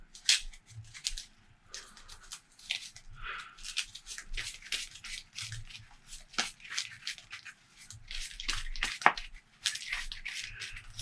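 A deck of game cards is shuffled by hand at a tabletop during a Ruins: Death Binder session, uneven bursts of papery riffling and sliding with brief quiet gaps between them, close and fairly soft.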